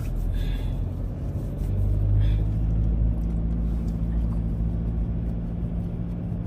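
A car moves along a nearby street, a steady low engine rumble and road noise holding fairly constant throughout, with no voices.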